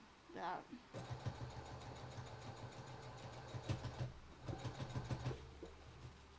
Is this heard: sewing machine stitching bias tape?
yes